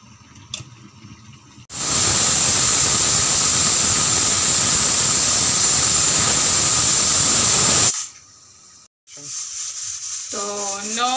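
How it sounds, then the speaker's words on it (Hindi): A pressure cooker with desi chicken cooking inside lets out a loud, sustained whistling hiss of escaping steam for about six seconds, then stops abruptly, leaving faint kitchen sounds. "कुकर में 9 लगे और 10वां सीटी है, ये 10 लग गया"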